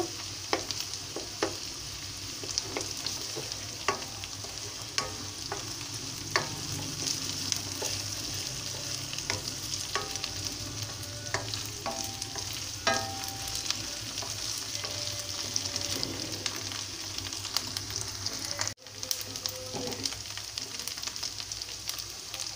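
Ginger garlic paste fries in a pan for an egg cauliflower curry, giving a steady close sizzle with scattered crackles and pops and a few light stirring clicks throughout, with no talking.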